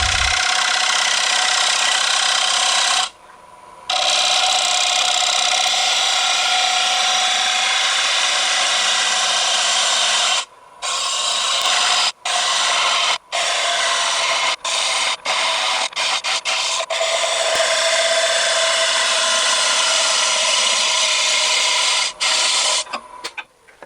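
Drop-point carbide-tip hollowing tool taking heavy cuts in wood on a lathe, a loud, continuous close rasping roar that runs for long stretches, broken by a few brief gaps and short stops near the end, with no talk.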